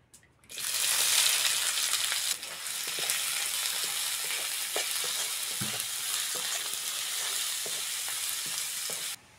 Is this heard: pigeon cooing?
no